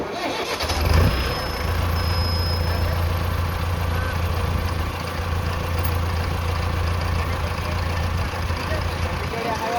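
An elderly woman starts a farm tractor engine in a field; the starter cranks briefly, then the engine catches into a steady, loud low idle that runs throughout, with a short high whine near the start and people talking faintly over it.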